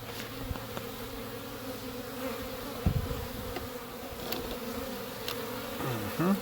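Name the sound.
honeybees buzzing at hive entrance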